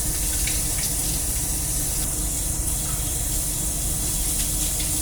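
Vegetables for kimchi rinsed under a running tap, a steady, fairly loud hiss and splash of water pouring continuously with no voices over it.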